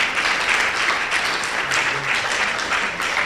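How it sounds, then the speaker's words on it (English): A conference audience applauds a Prudential agent with 17 MDRT qualifications, a dense, steady wash of many hands clapping that holds loud and even throughout, with no voices over it. "You can clap."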